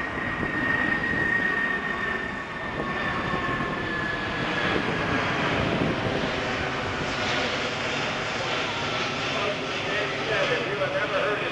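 A Lockheed C-5 military transport jet passes overhead, a steady broad engine roar with a faint whine, moderately loud and unchanging throughout.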